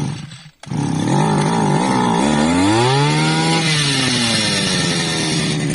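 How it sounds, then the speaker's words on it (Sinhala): A weeding machine's small engine catches after a brief pull, then runs loud and close with a rising and falling rev as the throttle is opened, steady and without speech. "හරි, එන්ජින් එක පණ ගැන්නුවා."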